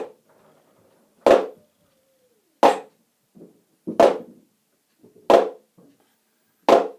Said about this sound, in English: That's the sound of a flam.